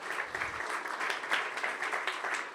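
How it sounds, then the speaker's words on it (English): An audience gives a panel of speakers a round of applause at the close of a conference session. The clapping is soft and distant, an even wash of many hands running for a couple of seconds. "Give them a big round of applause."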